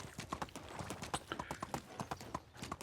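Horse hooves clip-clop at a steady trotting rhythm in the medieval farming game Medieval Dynasty, quiet and close, with a faint second horse nearby.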